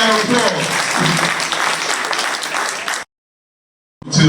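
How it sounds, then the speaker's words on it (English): Dense crowd applause at a community forum on returned citizens fills the room for about three seconds, loud and close with voices mixed in, then cuts to silence before clapping briefly resumes. "Let's give them all a round of applause."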